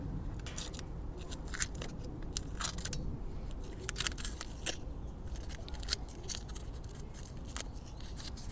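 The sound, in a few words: tape being taken off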